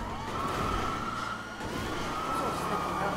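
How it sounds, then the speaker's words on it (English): A police car siren in GTA V wails steadily at a moderate level over a low background rumble, with no talking. "you have a police car"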